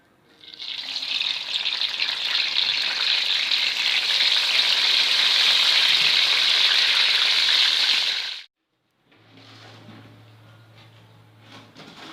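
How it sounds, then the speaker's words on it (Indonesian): Tempeh frying in hot oil for a soto ayam meal gives a loud, steady, close sizzle for about eight seconds, then drops away to a faint hiss with a low hum. "selanjutnya kita goreng sampai matang"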